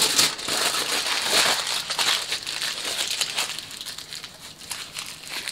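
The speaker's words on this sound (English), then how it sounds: "And this time I am crumpling it as tight as I can" Paper is scrunched tightly by hand to form a papier-mâché basset hound, giving close, dense crinkling bursts that come in waves and gradually soften.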